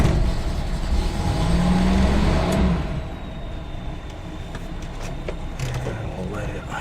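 A Toyota 2F engine with a Weber carburetor and the choke partly pulled idles just after starting, a low, uneven rumble that swells and then eases back, with brief clicks and knocks and a person talking over it.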